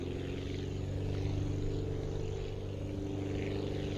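A propeller plane's engine runs at full throttle in the flight-building game Aviassembly, a loud, steady, unbroken droning hum with a constant buzzing tone and no talking over it.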